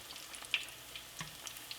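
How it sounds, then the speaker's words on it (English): Soft, steady sizzling of gluten-free churros frying in hot oil, with scattered small pops and crackles, close by, no talking. "you keep frying them until they're nice, lightly golden brown like this"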